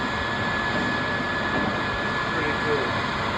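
A blower fan pushes debris out through the woods, making a steady, loud, broadband rushing whoosh that holds constant throughout, with no talking heard.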